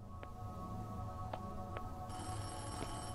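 A telephone rings in short, faint electronic trills, a few spaced bursts over a steady low background hum, with a higher tone joining near the end.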